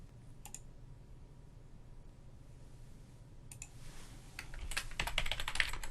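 A computer keyboard clicks as a localhost URL is typed, with a single keystroke, then a quiet stretch, then a quick flurry of crisp taps close by.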